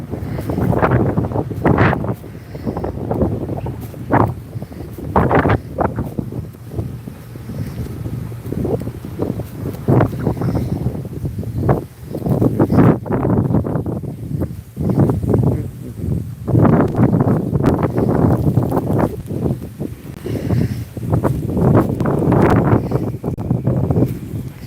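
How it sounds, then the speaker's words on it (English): Wind gusting steadily outdoors on a morning walk, a continuous rushing and buffeting against the microphone that swells and eases over the whole stretch, close and fairly loud, with no talk. "It's the wind."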